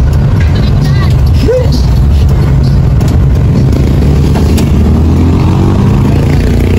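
Heavy street traffic in a busy town centre near a convenience store, with a dense, continuous rumble of car and motorcycle engines throughout, a few passing revs rising above the steady drone.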